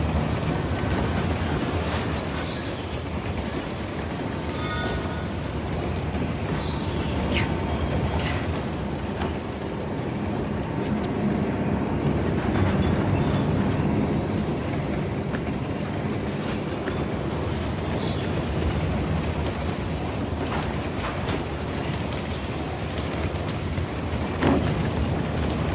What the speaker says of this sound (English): Commandeering a train?